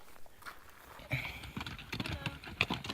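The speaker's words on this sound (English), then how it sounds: "You guys are the first horses I've seen on the PCT." Horses walk along the Pacific Crest Trail at high elevation, with irregular hoof clops on rocky ground that start faint and get closer.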